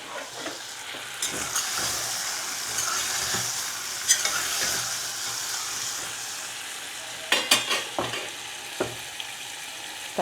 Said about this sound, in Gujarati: ચલો, અને હવે ટમાટર નાખી દઈએ.